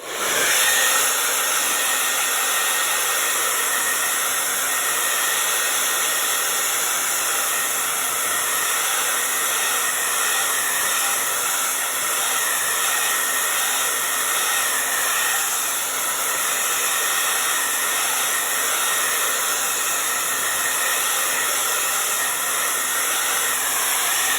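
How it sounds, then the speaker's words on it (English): A hair dryer blows steadily on a craft piggy to dry its paint, giving a loud, constant whooshing hiss with a high whine that runs without a break for over twenty seconds. "So I'm just gonna blow it dry"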